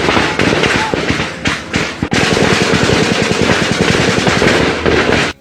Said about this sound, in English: The Ugandan security forces are shooting live bullets at unarmed citizens.